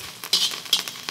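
Curry leaves frying in a pan as they are stirred, a brief burst of crackling sizzle with a couple of quick scraping strokes, close up.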